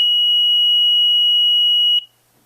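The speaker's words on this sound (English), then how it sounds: "The alarm is sounding off." A home security system alarm sounds a loud, piercing electronic tone that holds steady for two seconds, then cuts off abruptly, leaving near silence.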